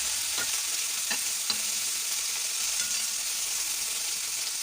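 Chopped nalleru (veldt grape) pieces cooking in hot oil for a curry, a steady soft sizzle with a few stirring scrapes and clinks, close and even throughout.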